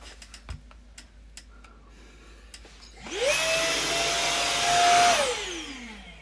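A vacuum cleaner starts up after a few faint clicks and taps, runs loud and steady with a high whine for about two seconds, then powers down and fades out.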